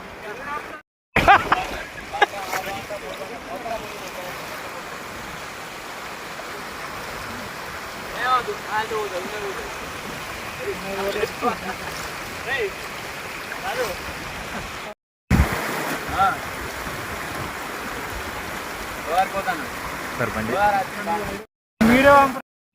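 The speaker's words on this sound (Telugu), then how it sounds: "వర్షానికి వాగులు వంకలు పొంగుతున്నాయి చూడండి ఈ వాటర్ నేరుగా వెళ్ళి గోదావరిలో కలుస్తూ ఉంటాయి" Rain-swollen streams and gullies overflow after heavy rain in a village, the floodwater rushing on toward the Godavari river, a steady broadband roar that runs on continuously with brief dropouts and faint voices in the background.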